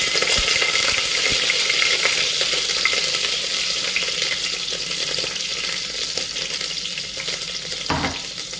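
Ginger-garlic paste and fenugreek seeds frying in hot oil inside a pressure cooker, a close, steady sizzle and crackle running the whole time with faint stirring scrapes and no talking.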